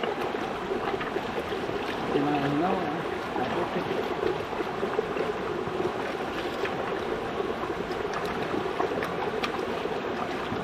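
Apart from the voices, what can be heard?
high flowing river water beside a house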